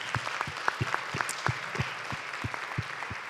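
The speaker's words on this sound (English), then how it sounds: "round of applause for amazing women." A conference audience at a health innovation panel applauds with a light, scattered patter of claps at moderate volume, with no voices over it.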